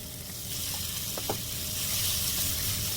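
Steady close-up sizzle of a spicy squid stir-fry with Cheongyang chili as the all-purpose seasoning sauce hits the hot pan, a continuous bright hiss with a few faint clinks of stirring.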